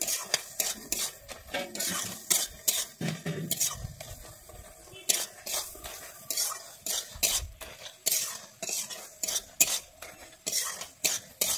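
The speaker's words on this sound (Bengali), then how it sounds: "আলুটাকে আমি খুন্তির সাহায্যে ঘেঁটে নেবো" Boiled potato and thankuni leaves being mashed with a metal spatula in a pan: rapid, repeated scraping and clinking strokes in an uneven rhythm, close and fairly loud, with a faint sizzle underneath.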